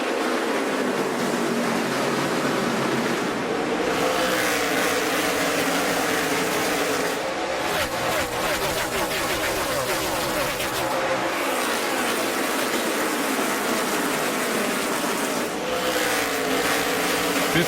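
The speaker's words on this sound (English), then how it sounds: "Big move early by the 18 of Kyle Busch, trying to take the lead away" NASCAR race cars at Richmond during the 2015 Federated Auto Parts 400, a steady dense roar of engines throughout with cars sweeping past and a commentator talking over the noise.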